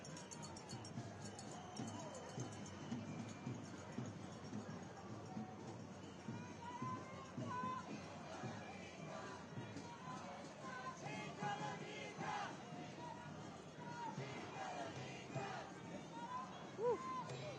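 A large outdoor crowd at a nationwide "No Kings" protest against Donald Trump, a continuous roar of cheering, chatter and shouts, fairly distant and diffuse, with occasional louder whoops rising out of the hubbub.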